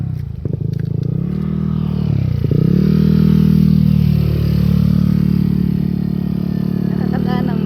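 A motorcycle engine drones loud and near on a baywalk road, its pitch dipping and swelling as it passes and revs, with a brief clattering burst partway through.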